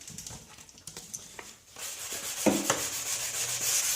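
Rough sandpaper rubs over a cloudy car headlight in a cold workshop, a light raspy scrubbing that starts with faint intermittent strokes and becomes a steady, continuous hiss over the last couple of seconds.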